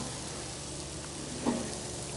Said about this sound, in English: See the moisture sizzling out?